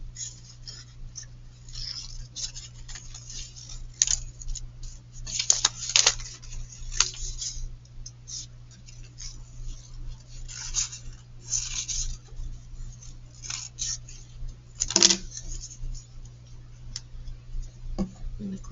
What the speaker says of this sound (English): when I'm cutting, I'm really taking my time to cut right on the lines.